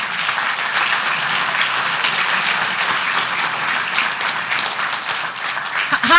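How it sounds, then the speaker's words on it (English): A city council chamber audience applauds city staff at a Santa Ana council meeting: continuous, moderately loud clapping from many people, even and unbroken throughout, with a brief louder burst at the very end. "Let's give them a round of applause"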